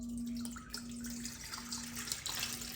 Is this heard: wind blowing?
no